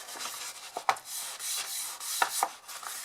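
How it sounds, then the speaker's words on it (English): Fingertip rubbing and smoothing the sides of a linen fabric gift bag, soft close brushing strokes with a few light taps and rustles, steady and quiet with no voices. "just use my finger to smooth the sides"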